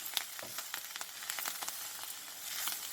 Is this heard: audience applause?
no